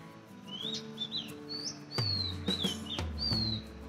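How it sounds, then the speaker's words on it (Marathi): Morning birdsong during a walk: several bright chirps and short rising whistles repeat at close to moderate distance, fairly soft, with no one talking. "पक्ष्यांचा किलबिलाट चालू आहे."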